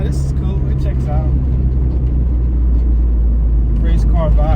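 A single-cam car engine rumbles steadily with a deep, throaty exhaust drone, while a person talks over it.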